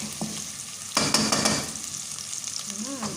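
Garlic, onion and ginger sizzle and fry in a pan for a Filipino munggo dish, with a spoon stirring and scraping steadily through the crackle, close and continuous.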